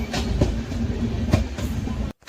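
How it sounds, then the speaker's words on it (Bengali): The Howrah–Delhi Duronto Express rolls along with a steady rumble and rhythmic clickety-clack of wheels over rail joints, heard from inside the train, with a brief dropout near the end. "দাঁড়িয়ে থাকার পরে অবশেষে ট্রেন আবার ছাড়লো।"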